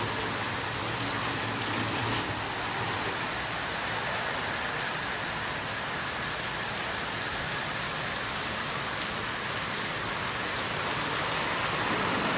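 Steady, dense rain pours outdoors at a countryside villa near Karjat, a constant broadband hiss with no voices over it.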